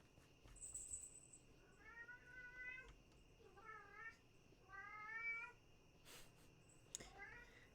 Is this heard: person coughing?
no